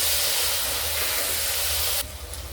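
Diced potatoes, soaked in water beforehand, fry in a spiced oil tempering for masoor bhat, giving a loud, close, steady hiss that drops abruptly to a softer sizzle near the end.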